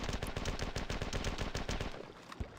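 Sustained automatic gunfire in the classic game Marathon, a dense rapid stream of loud shots that thins out near the end.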